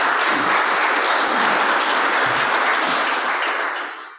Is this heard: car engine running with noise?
no